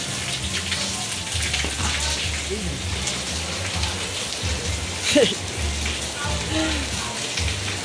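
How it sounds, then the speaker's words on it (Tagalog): Heavy rain pours down in a dense, loud, continuous hiss with drops pattering on surfaces close by, and voices speak faintly beneath the downpour. "sobrang lakas po ng ulan eh"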